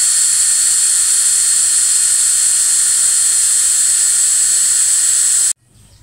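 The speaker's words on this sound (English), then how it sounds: "I'm going to come back with this 5/16 bit and finish off the hole" A power drill with a 5/16 inch bit enlarges a pilot hole in aluminum for a transom saver bracket on a boat, giving a loud, steady high-pitched whine that holds for over five seconds and then cuts off abruptly.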